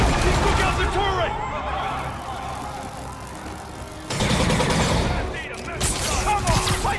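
Heavy automatic fire from an APC turret in Marvel's Spider-Man, a dense, loud, continuous rattle of rapid shots with rumbling engine and explosive effects, mixed with shouting voices.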